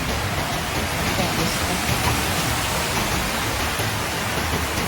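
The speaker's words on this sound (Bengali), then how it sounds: "কি জোরে বৃষ্টি নেমেছে" Heavy rain pours down in a steady, dense hiss that fills the whole stretch evenly and loudly, with no letup and no other clear sounds on top.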